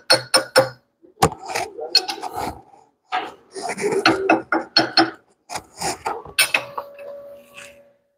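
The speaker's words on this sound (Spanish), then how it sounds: "Vamos a limpiar el inicio, la escoria que se forma en el inicio." Weld slag being cleaned from the start of a bead while building up the propeller-shaft bearing seat of a Ford Cargo 1721. Close, irregular scraping and chipping strokes come in short bursts with pauses between them.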